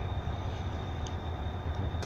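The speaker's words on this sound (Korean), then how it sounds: "매일매일 쉼없이 열차들이 다닙니다." A Mugunghwa train runs on the Mokpo line, giving a steady low rumble with a faint high whine, heard from inside the train, continuous and without talk.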